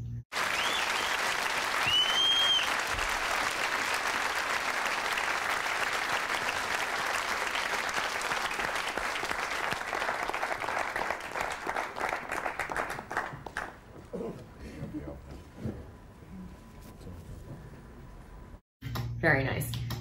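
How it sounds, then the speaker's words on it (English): A studio audience at a 1995 live Israeli TV show applauds steadily and loudly after a performance, the clapping thinning out toward the end. "I think it's just applause,"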